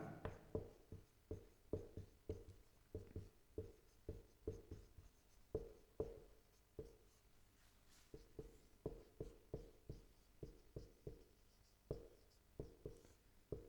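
Chalk taps and strokes on a classroom board come in quick, regular clusters of sharp clicks throughout, close and clear, with short pauses between bursts during a Class 10 science lesson.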